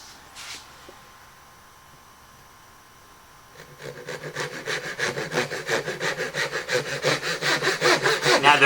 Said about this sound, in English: the reason why I use a hand saw